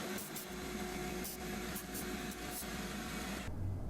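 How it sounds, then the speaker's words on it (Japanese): A quiet, steady hiss of compressed air from an air compressor blowing dust out of the inside of a Martin 000-15S mahogany-top acoustic guitar, with a vacuum cleaner, broken by a few brief louder bursts. "掃除機と、あとはこのエアコンプレッサーから出てくるエアーですね。"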